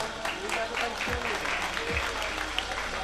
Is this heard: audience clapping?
yes